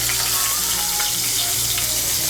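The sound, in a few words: bitter gourd frying in oil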